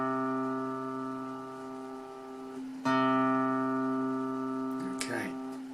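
Guitar fourth string detuned from D down to C, plucked twice and left to ring as a steady low note, close and clear, with a brief handling noise at the end.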